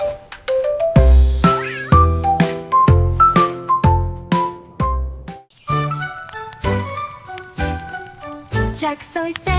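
A sung cat meow melody runs through a French children's song, a string of bright, tuneful meows over a bouncy musical backing with repeated plucked notes.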